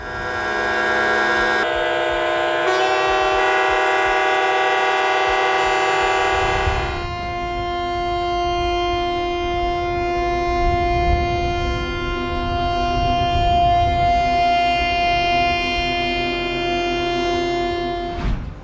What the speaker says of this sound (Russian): Судов, автомобилей и поездов раздаются сигналы.